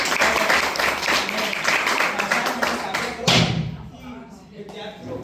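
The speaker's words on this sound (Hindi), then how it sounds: "एक बार जोरदार तालियों से अभिनंदन करें।" A lecture audience at a workshop claps loudly in a dense, rhythmic burst that stops abruptly after about three seconds, followed by quieter room sound and voices.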